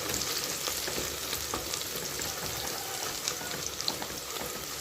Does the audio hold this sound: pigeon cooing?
no